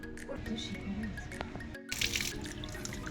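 Tap water runs into a container that had dried out completely as it is rinsed at a sink, a steady close splash with a brief gap and a louder surge midway, and a voice talking over it.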